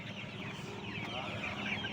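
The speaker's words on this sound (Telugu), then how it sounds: "గిన్నె కోళ్ళు" Guinea fowl clucking and chattering among domestic poultry, a steady stream of close, overlapping calls with faint voices in the background.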